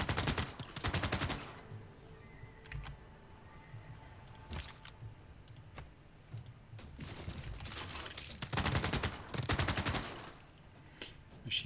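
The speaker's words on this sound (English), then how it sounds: "Machine gunner attacking one of their units." Rapid bursts of machine-gun fire from a machine gunner unit in the strategy game Civilization 6 crackle in several loud volleys separated by quieter gaps, with faint clicks in between.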